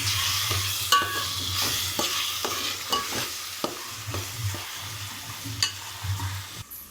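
Green peas stir-fried for kichdi give a continuous close sizzle, broken by repeated scraping stirs of a spatula against the pan, with no voices.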